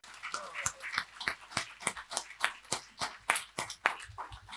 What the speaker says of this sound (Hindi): एक बार जोरदार तालियां इनके लिए भी हो जाए।